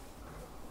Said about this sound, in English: sliding a pocket door there, a frosted glass pocket door